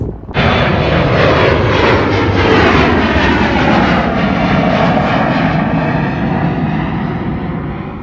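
A loud, steady roar of a large four-engine jet airliner taking off at Anchorage, Alaska, its engine noise filling the whole clip and fading slightly toward the end.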